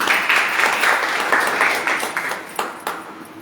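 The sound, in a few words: audience applause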